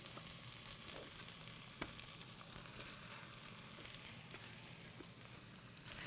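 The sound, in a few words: chicken breasts frying with garlic and spices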